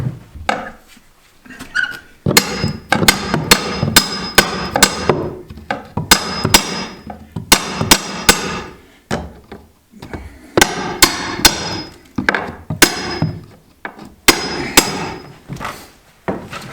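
Hammer blows and a crowbar prying out wood boards while prepping a roof for insulation and Provent installation, sharp loud clustered strikes and creaking pulls in bursts separated by brief pauses, close by.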